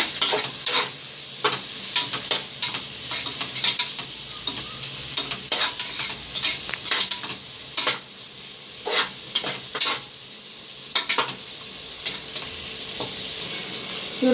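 Onions and mushroom biryani ingredients frying in a pan, stirred steadily until golden, with a continuous sizzle broken by repeated scraping strokes of a spoon against the pan, close and clear with no talking.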